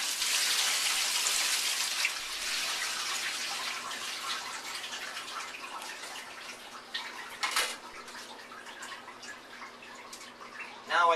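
Water drained from a mozzarella-making bin pours and splashes steadily, a hissing gush that gradually eases, with a few drips and knocks near the end.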